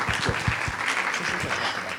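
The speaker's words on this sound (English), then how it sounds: "So take a minute and clap for yourselves." Audience members at a publicity summit clap for themselves, with several distinct close claps at the start, then a steadier round of applause that continues at moderate loudness for a couple of seconds.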